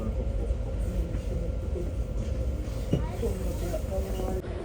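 A German regional train leaving Freiburg rumbles steadily with a low drone and faint rattles from inside the carriage, with people talking over it.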